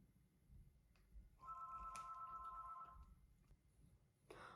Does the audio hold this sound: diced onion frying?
no